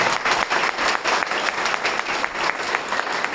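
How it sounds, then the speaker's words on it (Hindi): A crowd at a business meeting applauds loudly and continuously, with dense, steady clapping from many hands throughout. "मैं चाहूंगा एक बार हमें जोरदार तालियों से वेलकम करिए"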